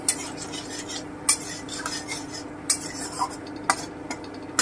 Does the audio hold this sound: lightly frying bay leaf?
yes